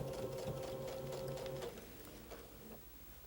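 Sewing machine stitching across a quilt seam, a steady rapid mechanical run that fills the first half, then eases off into softer, sparser clicks and handling noise.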